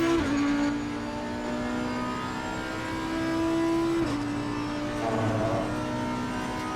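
Race car engine in a sim racing video game during a timed lap, a steady loud drone with a gear shift near the one-second mark and another dip around four seconds, continuous throughout with no talk.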